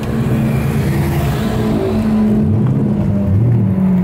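A Subaru pulls away under hard acceleration, its engine rising in pitch through the revs as it moves off, loud and close with a steady roar and no talking.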